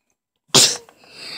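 One loud, sudden sneeze close by breaks the silence, then fades into faint room noise.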